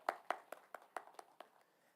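A single person claps hands at a formal panel event on the Indian Constitution, about eight crisp, evenly spaced claps that slow and fade toward the end, heard alone without talk.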